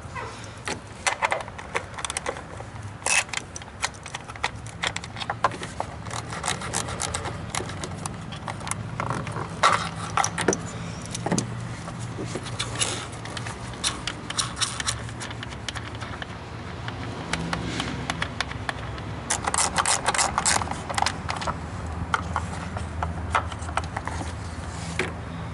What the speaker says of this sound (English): Remove these three 10mm screws that hold this plastic cover on.